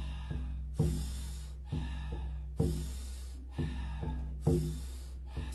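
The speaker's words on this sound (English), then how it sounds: "So it's a bigger breath in, soft exhale." Rhythmic Wim Hof style breathing during a yoga and breathwork session: five or six big audible inhales, each followed by a softer, longer exhale, close and steady with no speech.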